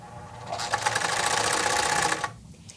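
A blind hem sewing machine stitches fabric with a fast, steady mechanical whir and rattle that runs for about two seconds and then stops.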